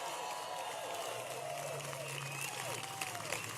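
Applause and scattered cheers from a crowd at a political rally in Norfolk, Virginia, rolling on under a speaker's amplified voice, with claps thinning and whoops rising above the talk.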